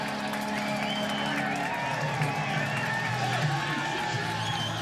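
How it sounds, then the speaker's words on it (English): Big lacrosse crowd at an NCAA first-round game, Carolina vs Marquette, roaring steadily after a Marquette goal, a dense wash of cheering and whoops with no clear break over nearly five seconds. "This crowd is fired up."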